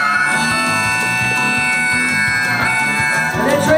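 A harmonica in a hill country gospel style blows a sustained, trumpet-like call, a steady bright reed chord with rhythmic pulses in the low end, loud and close throughout.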